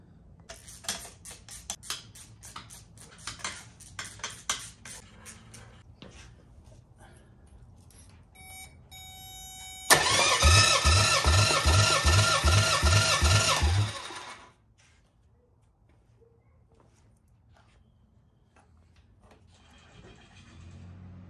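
Car engine cranking on the starter during a cylinder compression test, a rapid rhythmic churning lasting about four seconds, preceded by scattered clicks and ticks and followed by quiet.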